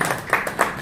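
A small crowd claps at the opening of a nautical festival in Abidjan, a short burst of several uneven hand claps, fairly close and loud.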